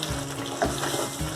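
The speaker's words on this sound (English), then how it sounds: "Now add 2 tablespoons of oil. I am using olive oil. Add the green chilies." Green chilies frying in olive oil, a continuous close sizzle with a faint stir partway through.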